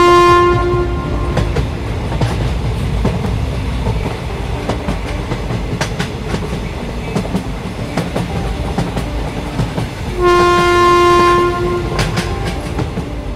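A train running along the tracks with steady rumbling and clattering wheels, and a loud horn blast at the start and again near the end, close and loud throughout.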